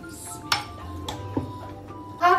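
A spoon scrapes and clinks against a metal cooking pot while spice mix for pea pulao is stirred, giving a few sharp taps and clinks over a low kitchen hum.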